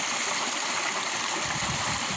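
The Mekong river flows in a steady, full rush of water, loud and unbroken throughout, with no voices.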